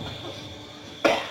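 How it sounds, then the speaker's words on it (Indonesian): A man gives a single sharp cough near the end of a short stretch of quiet room tone, loud and close. "Batuknya beneran ya"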